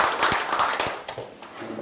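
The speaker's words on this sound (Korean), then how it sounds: "박수 부탁드리겠습니다." Audience applause at the 112th Asia Forum 21 relay policy debate, welcoming Gyeongbuk Cultural Foundation head Koo Yun-cheol; a brief burst of clapping from a hall crowd, fairly close, fading toward the end.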